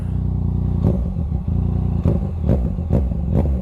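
A Yamaha XSR900 motorcycle fitted with an M4 exhaust burbles steadily at close range, and a series of sharp pops and crackles bursts out as it downshifts.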